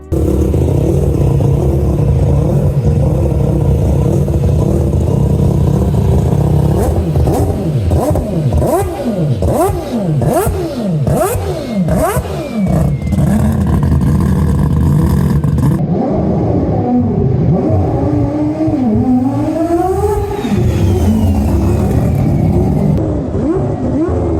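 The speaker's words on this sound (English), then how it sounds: "rocking a glorious five-rotor engine" A loud, buzzy five-rotor engine in a Mazda 787B replica race car revs hard over and over, its pitch sweeping up and down in sharp repeated climbs before settling into a lower drone.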